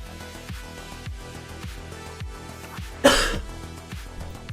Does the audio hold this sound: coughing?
yes